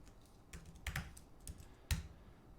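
Typing on a computer keyboard during web project work, with a handful of separate key clicks and a couple of sharper, louder keystrokes spread unevenly across a quiet room, no voices.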